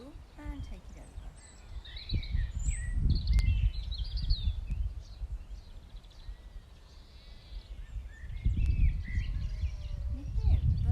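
Birds chirp and trill in the distance outdoors, with occasional lamb bleats and low rumbling wind or movement nearby.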